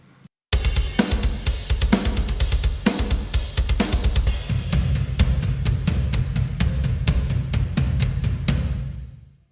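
A full drum kit programmed in EZdrummer 2 plays a driving pattern with punchy kick and snare and crashing cymbals, ending with rapid even hits before stopping.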